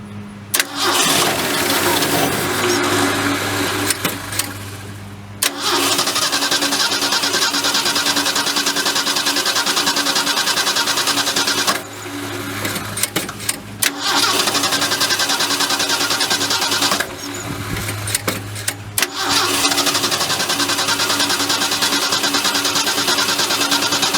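Engine cranked hard with a one-barrel carburetor freshly rebuilt, long loud bursts of starter whirring broken by short pauses, three attempts in a row.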